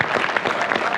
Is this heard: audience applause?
yes